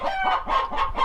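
Close, loud clucking from hens with a rooster crowing, quick repeated bursts of rising and falling calls, no talk, on a homestead.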